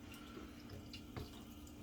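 Tap water runs steadily while hair is washed at a sink before soaping, a continuous close splashing flow with faint drips throughout.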